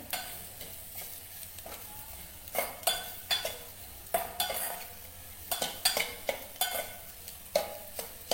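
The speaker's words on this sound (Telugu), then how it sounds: "సాల్ట్ అండ్ చిల్లీ పౌడర్ మంచిగా కలిసిపోయేలాగా కలుపుకోవాలి" A spoon stirs salt and chili powder into sizzling food in a frying pan during a home cooking contest, with a soft continuous fry under a quick run of bright scrapes and clinks against the metal that come faster toward the end.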